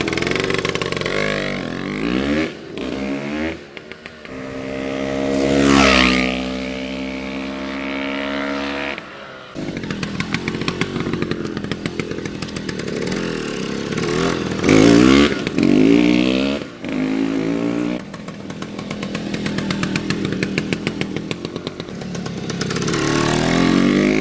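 A 1971 Yamaha RT1 B 360 Enduro two-stroke motorcycle engine running loud and close, its buzzing note rising and falling through repeated revs and throttle blips, with a long surging rev near the start.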